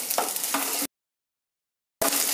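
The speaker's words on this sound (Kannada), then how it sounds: "ಬೇಳೆಗಳೆಲ್ಲ ರೋಸ್ಟ್ ಆಗಿದೆ." Lentils and curry leaves roasting in a pan give off a steady, close hissing sizzle, cut by a brief dead silence before resuming.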